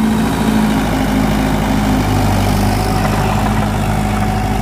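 A Mahindra 575 XP Plus 47 hp diesel tractor idles loud and close, a steady low rumbling throb with an even mechanical chug and no change in pace throughout.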